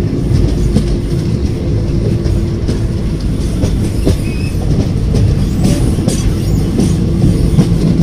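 A sleeper class train rolls along the Kakinada–Kotipalli line toward Kotipalli with a loud, continuous rumble and rhythmic clickety-clack from the wheels, heard from inside the carriage, with faint wheel squeals now and then.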